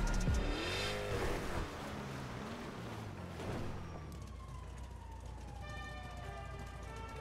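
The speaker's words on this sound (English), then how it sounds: "Oh wait, did we lose them? I hear sirens." Police car sirens wail during a chase in the video game GTA 5, rising and falling tones layered over steady car engine drone and game sounds, with brief speech early on.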